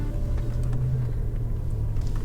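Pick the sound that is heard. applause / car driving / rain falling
car driving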